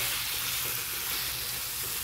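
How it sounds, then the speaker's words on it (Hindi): Gram flour (besan) fries with boiled bottle gourd in a pan, making a continuous, even sizzle and hiss close up, with no talking. "इसे हम कम से कम 10 मिनट तक फ्राई करेंगे, जब तक हमारा बेसन अच्छे से फ्राई नहीं हो जाता है"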